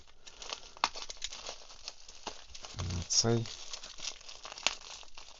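Plastic package bags from a parcel of Hot Wheels models shipped from Germany crinkle and rustle up close as they are unwrapped, with a cluster of louder crumpling bursts in the middle while a voice speaks briefly.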